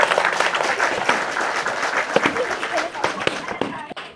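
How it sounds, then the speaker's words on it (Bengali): Village children clapping their hands together in a bright, uneven burst of applause, close by and lively, with sharper individual claps poking through and voices mixed in. "একটা হাততালি হাততালি"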